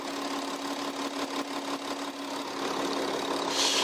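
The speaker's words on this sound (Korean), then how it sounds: "엔진 소음 먼저 들려드리면은" A 3.0 TDI V6 diesel engine in a large German coupe-sedan runs at idle with the hood open, giving a steady, close, even hum with a fine clattering texture and no speech.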